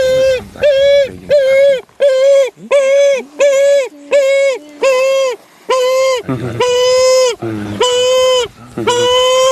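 A southern ground-hornbill, a large heavy ground bird, gives a repeated begging call: loud, close, hooting cries in a steady series of about a dozen, each short and nasal, with a few longer, higher notes near the end.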